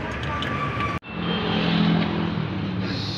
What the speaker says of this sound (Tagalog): So papandarin lang to guys.